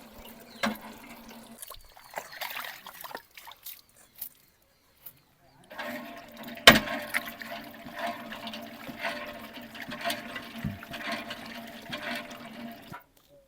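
Clean mountain water pours and splashes in a village kitchen, a steady rushing flow that stops briefly and then resumes more fully, fairly faint and heard alone.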